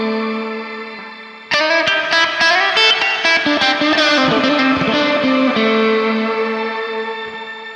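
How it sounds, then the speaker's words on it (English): Electric guitar runs through a Neunaber Immerse Reverberator pedal on its Shimmer B setting. Held chords and picked notes swell into a dense, bright wash of reverb and octave-up shimmer that keeps ringing and slowly decays, with no talking. "So this is Shimmer B, the second shimmer effect. Sounds slightly different like this."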